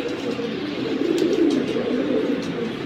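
Pigeons coo in a cramped cage, a steady low murmur of cooing throughout with faint higher chirps above it.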